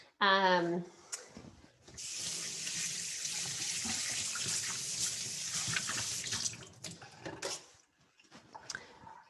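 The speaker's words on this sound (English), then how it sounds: "I'm going to wash my hands." A kitchen tap runs while hands are washed under it, a steady gush of moderate loudness lasting several seconds; a voice is heard briefly before the water starts.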